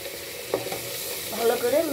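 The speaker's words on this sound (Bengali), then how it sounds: "ভালো করে মিক্স করে নিচ্ছে।" Spices such as coriander powder and turmeric are stirred into food frying in a pan, a soft scraping stir over a steady close sizzle, brief and without talk.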